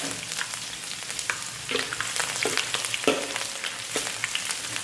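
Ginger garlic paste and cumin seeds frying in hot oil for a Pakistani kaddu gosht with beef, giving a steady close sizzle with crackles and occasional stirring scrapes, no voices.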